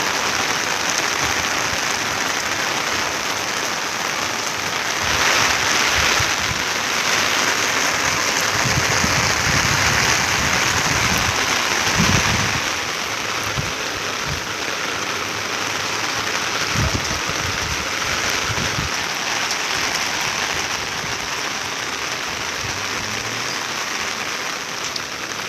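Monsoon rain falls in Anand in a steady, dense hiss that runs unbroken from start to finish, with occasional low thumps underneath and no voices.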